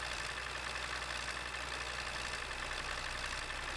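An MTZ tractor engine idles in Farming Simulator 15, a steady low drone with a faint rhythmic knock, fairly quiet and unchanging, with no voices.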